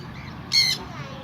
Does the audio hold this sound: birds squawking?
yes